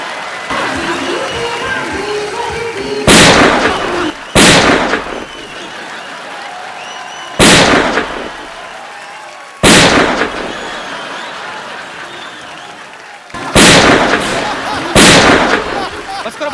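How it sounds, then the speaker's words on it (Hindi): About seven sharp, loud gunshot-like bangs go off in irregular bursts, some in quick pairs, over a murmuring crowd and voices at a lively stage event. "6 गोलियां 12 मार दी आपने"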